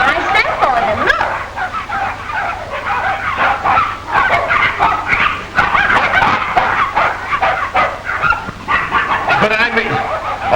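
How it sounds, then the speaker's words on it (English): Several wolfhounds bark, yip and whimper excitedly in a crowded, overlapping chorus, loud and close, continuing almost throughout. "Irene, you can't have these dogs here."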